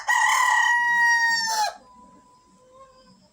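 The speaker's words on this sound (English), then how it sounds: "Day the light out, rooster crow." A rooster crows at daybreak: one loud, close call that rises and holds for about a second and a half, then cuts off, leaving faint clucking and quiet farmyard background.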